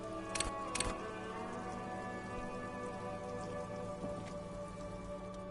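Steady rain patters down in a Disco Elysium game scene, a dense continuous hiss of drops on surfaces with a soft tonal ambient bed underneath and a couple of brief sharper ticks near the start.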